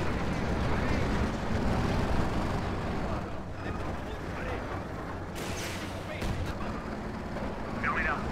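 Continuous rumbling battle din from Company of Heroes 2, with dense gunfire and booming artillery in a loud unbroken wash, while voices talk over it.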